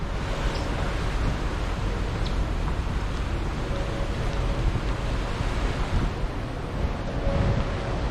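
Ocean waves wash and surge steadily below a cruise ship deck, a continuous broadband rush mixed with wind buffeting the microphone, with no talking.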